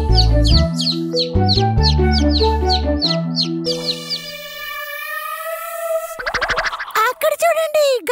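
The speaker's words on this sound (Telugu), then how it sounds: "అక్కడ చూడండి, గరుడ పక్షి." A cartoon eagle gives a drawn-out, ringing cry with a slight upward bend, following bouncy background music in an animated Telugu children's story. A brief stretch of voices comes after.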